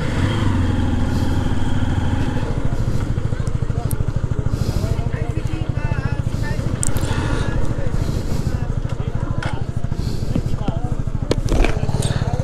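A motorcycle engine runs steadily and loudly close by during a ride up Konglak Hill near Sajek Valley, a constant throbbing rumble with people talking over it.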